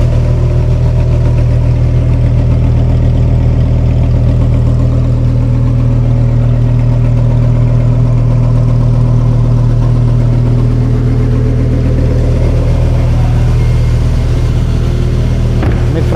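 A warmed-up Lamborghini Huracan EVO engine idles steadily near 1000 RPM, recorded from outside the car as a loud, deep, even drone that stays constant throughout with no talk.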